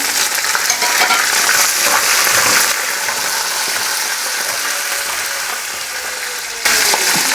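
Dried red chillies and spices tempering in hot oil, a dense continuous sizzle and crackle with occasional pops, loud and close throughout.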